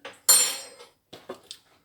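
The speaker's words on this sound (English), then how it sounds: "And we're going to mix it up really nicely." Vegan peanut butter cookie dough is mixed in a bowl: one sharp clatter of a utensil against the bowl, then a few lighter scattered knocks, close and alone.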